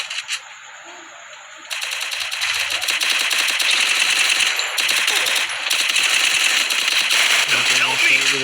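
Rapid automatic gunfire in a video game, dense continuous bursts of shots filling most of the stretch after a quieter start, loud and close, with game effects mixed in.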